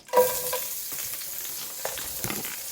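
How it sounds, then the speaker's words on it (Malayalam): Sliced onions drop into a hot pan and start frying, a sharp burst of sizzle at the start settling into a steady crackle with a few stirring clicks, close and moderately loud. "അതിലേക്ക് കുറച്ച് സവാള ഇട്ടെടുക്കാം. ഒന്ന് ചൂടാൻ വരട്ടെ. ചൂടായിട്ടുണ്ട് സവാള."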